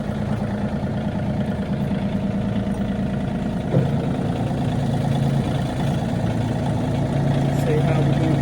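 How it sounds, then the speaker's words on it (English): A tractor engine idles steadily at close range while a trailer is hitched to it, a continuous low rumble under intermittent talk. "I'm hooking up the trailer to the tractor."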